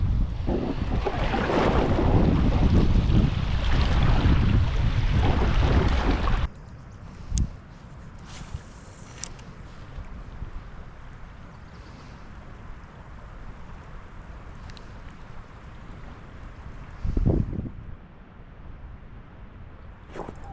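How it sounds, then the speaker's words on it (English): Heavy wind buffets the microphone in a loud roaring rush during kayak fishing on a river, then drops off abruptly to a quieter outdoor background with faint water and occasional brief gusts. "Gosh, I hate wind."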